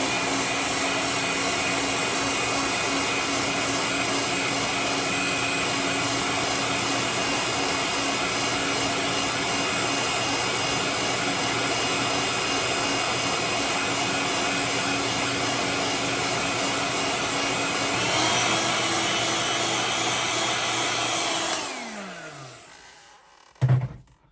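A heat gun heat-setting paint on a pewter sunfish lure, a loud steady whirring blower hum running continuously, then winding down and stopping near the end, followed by a brief knock.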